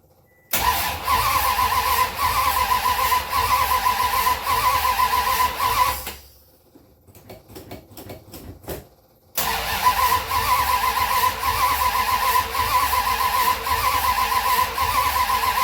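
A Honda car fitted with a swapped 440 engine runs with a loud, steady mechanical roar, cuts out into a quieter stretch of rattling for several seconds, then restarts and keeps running strongly.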